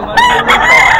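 Black fighting stag rooster of the Black Knight McRae line at a poultry market in Bocaue, crowing once loud and close in a brief harmonic cock-a-doodle-doo.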